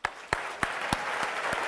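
Audience applause after a talk on sustainable tourism at a hotel school, steady clapping from a crowd that holds at an even level through the whole stretch, with a few sharper claps standing out at the start.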